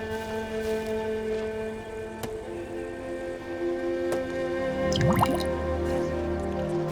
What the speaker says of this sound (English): A little water coming out of the side of the mountain.